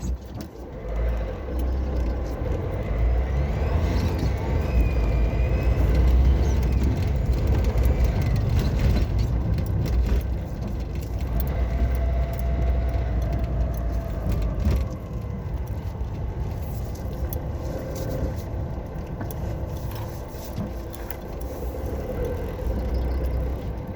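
Father's car driving through the night, a steady low engine and road rumble holding near and loud throughout with a faint passing whine, no voices.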